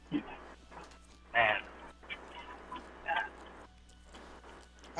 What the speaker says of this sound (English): What is the deal with Spider-Man and pigeons?